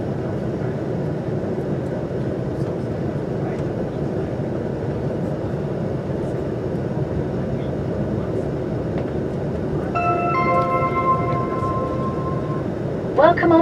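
Virgin Pendolino Class 390 train, unit 390 118, departing Stafford: a steady low rumble and rush of running fills the whole span, with a brief electronic chime tone near the end.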